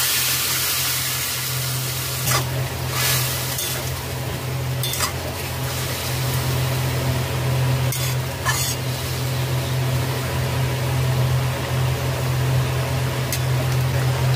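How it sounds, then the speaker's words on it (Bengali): Boiled pointed gourd and potato being stirred into hot spiced oil: a steady sizzling hiss with a few sharp spatula scrapes against the pan, close and continuous, with no voices. "মশলা থেকে তেল ছেড়ে দিয়েছে। সিদ্ধ পটল আলু দিয়ে দেবো।"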